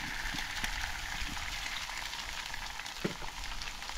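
Eggs fry in a pan at a campsite, giving a steady, close sizzling crackle with scattered pops that runs evenly throughout, with no talking.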